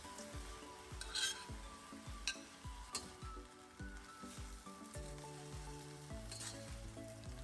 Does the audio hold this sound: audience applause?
no